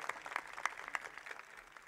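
Faint applause from an audience welcoming Dushyant Chautala, Deputy Chief Minister of Haryana, at a public event: a few scattered, sharp claps over a quiet background, brief and distant.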